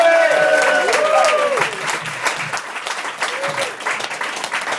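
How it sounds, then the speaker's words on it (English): A comedy club audience clapping, loud and sustained, with voices calling out over the applause before it gradually thins. "huge round of applause for Mr. Ratan Lele!"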